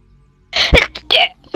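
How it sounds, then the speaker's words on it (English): A single loud sneeze bursts out close by during a gaming session, a sharp explosive burst followed by a short breathy tail and a second smaller exhale. "That was loud sneeze for some reason."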